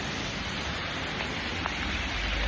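Steady rain falls in Mumbai, a constant even hiss throughout with no breaks, heard alone with no voices.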